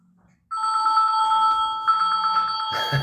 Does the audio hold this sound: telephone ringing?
yes